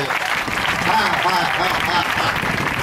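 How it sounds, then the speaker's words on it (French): Sustained applause from a church congregation praising the Lord during a Sunday sermon, dense steady clapping with voices and cheers mixed in throughout. "Est-ce qu'on peut donner acclamation au Seigneur?"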